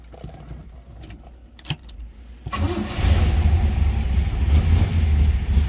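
A 1966 Chevrolet Chevelle SS 396 V8 is cranked over after some keys jangle and clicks, catching at about three seconds and settling into a loud, rumbling idle close by.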